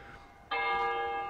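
A bell in the horror video game Cry of Fear strikes suddenly after a quiet stretch, then rings on as one sustained, resonant metallic tone that stays loud and close.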